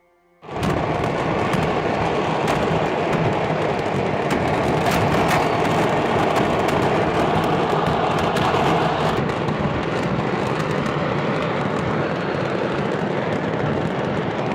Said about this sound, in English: The sky over Tultepec erupted. Fireworks, smoke, and flames soared into the air, dazzling and dangerous all at once.